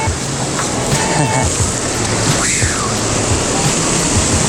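Ocean surf rushing and breaking around an inflatable SUP (COOLCAA Dolphin) while paddling over waves, a loud continuous wash of water with wind noise, a faint voice in the background.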